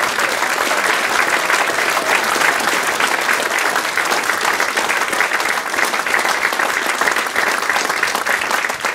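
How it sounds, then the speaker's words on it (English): A concert audience gives the orchestra musicians a big round of applause at an event at Whitley Bay, with thick, continuous clapping from a large crowd that stays loud throughout. "how about a big round of applause for all the musicians who put all the hard work into all the sets"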